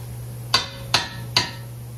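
A fist strikes a half-inch-drive 18 mm ratchet three times in steady succession to break loose a rear disc caliper bolt on a Dodge Grand Caravan. Each blow is a sharp metallic clank, close by, over a low steady hum.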